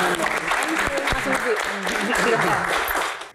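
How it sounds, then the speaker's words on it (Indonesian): Audience applause at a Q&A talk event, a sustained wash of clapping with a voice speaking over it, fading out at the very end. "Tepuk tangan untuk Mas Didi."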